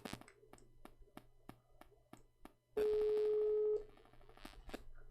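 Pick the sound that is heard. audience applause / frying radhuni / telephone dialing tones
telephone dialing tones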